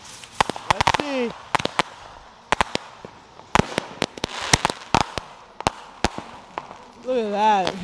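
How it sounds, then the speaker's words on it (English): Dragon artillery shell fireworks at a Fourth of July display, a series of sharp cracking bursts and pops, some near and some farther off, spread irregularly throughout, with people talking and exclaiming over them. "now we've got one of the classic Dragon artillery shells"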